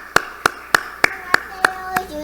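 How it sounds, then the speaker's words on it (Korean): A church congregation at a Sunday service claps in unison to welcome kindergarten children, giving seven crisp, evenly paced claps, with a voice faintly present under them. "우리 박수로 한번 환영하겠습니다."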